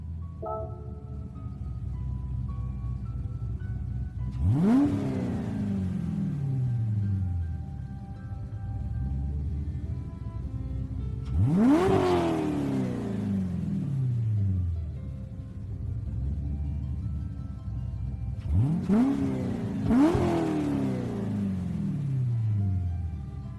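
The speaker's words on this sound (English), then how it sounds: "So here is the next car, which is a Corvette" A 2001 Corvette Z06 C5 V8 in Gran Turismo 7 idles with a low rumble, then blips sharply upward four times, each rev rising fast and falling back, the last two close together.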